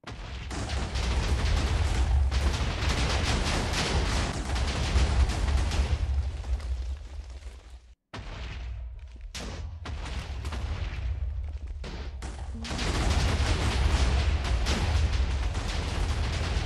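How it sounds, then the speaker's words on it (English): A loud, sustained Minecraft explosion rumbles through most of the stretch, cutting out abruptly for a moment before a second dense blast roars back with full force. "this explosion was a little more extravagant"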